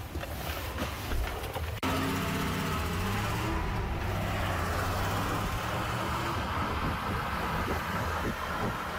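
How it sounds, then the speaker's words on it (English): A Cruise driverless car rides through the streets of downtown Austin, its steady road rumble and cabin noise running continuously and fairly loud throughout, with no talk. "We are taking a ride in a cruise driverless car on the streets of downtown Austin"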